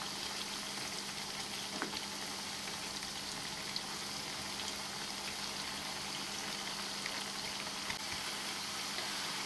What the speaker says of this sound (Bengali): কোপ্তাগুলো ভাজা হয়ে গেছে